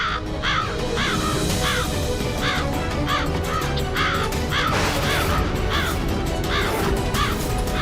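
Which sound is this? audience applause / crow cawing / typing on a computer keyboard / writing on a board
crow cawing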